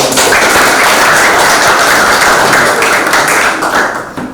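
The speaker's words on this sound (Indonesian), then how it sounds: "Kita berikan aplaus" Steady applause from a classroom group during a teacher's lesson, dense and continuous for several seconds before fading slightly at the end.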